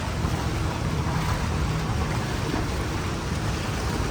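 Heavy, continuous rain pours down on a flooded city boulevard in Manila, a dense, even wash of noise with no pauses and no voices.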